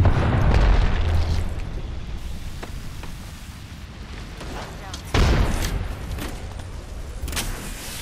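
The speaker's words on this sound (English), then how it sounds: "Grenade." A grenade blast in the Apex Legends video game gives a loud boom near the start, and a second explosive burst follows around the middle. Game gunfire and effects continue beneath throughout.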